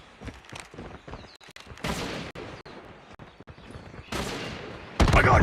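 Rapid automatic gunfire in the mobile video game Call of Duty, dense bursts of shots crackling continuously with louder blasts toward the end.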